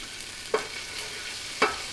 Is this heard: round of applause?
no